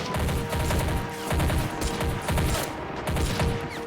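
Machine guns fire from bunkers in the Army Men of War Legends video game, dense overlapping bursts of rapid automatic gunfire in loud repeated waves, with no speech.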